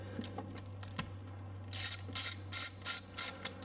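A spark plug socket ratchet working on a Ford Fiesta Zetec engine, giving a run of five or six quick, crisp ratcheting clicks in steady rhythm after a few faint metallic taps, close and clear.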